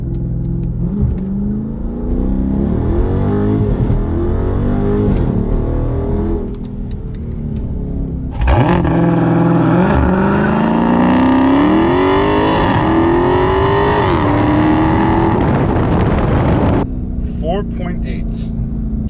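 A Dodge Daytona 392 launching with launch control from 3000 RPM: a loud, close V8 burble jumps to a roaring, rising rev that climbs through the gears for several seconds, then drops back to a rumble.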